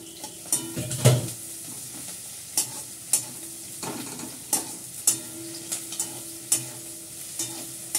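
Garlic and ginger paste frying in oil with browned onions, stirred with a utensil: a steady low sizzle broken by repeated sharp scrapes and clinks of the spoon against the pan, fairly close and with no talking.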